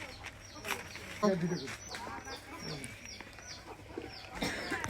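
A chicken clucks and squawks nearby amid other farmyard fowl in a Bangladeshi village, while people talk over it.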